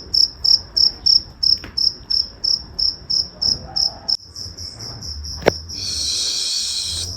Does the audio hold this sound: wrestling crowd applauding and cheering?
no